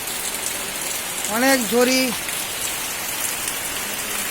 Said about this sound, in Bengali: ত্রিপুরার কুমারঘাটে বৃষ্টি হচ্ছে